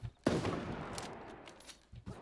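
AK rifle in the video game Super Animal Royale firing a rapid burst of sharp shots, loud and close, followed by a few more scattered shots near the end.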